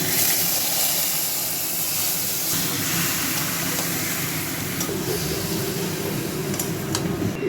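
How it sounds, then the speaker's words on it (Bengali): Marinated chicken fries lightly in a pan of oil, giving a dense, steady sizzle and hiss that runs unbroken and fairly loud throughout, with no talking. "এটাকে একটু তেলে একটু হালকা ভেজে তুলে নিতে হবে"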